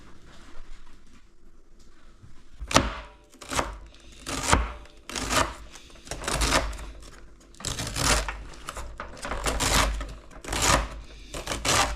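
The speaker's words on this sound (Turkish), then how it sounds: "Bahçeden toplanan lahanalar güzel gene yıkandıktan sonra yavaş yavaş ince ince kesilmeye başlar" Washed cabbage being sliced thinly with a knife on a board, a series of sharp close chopping taps in irregular bursts, some quick runs of strokes, with no voices.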